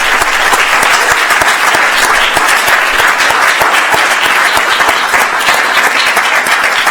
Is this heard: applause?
yes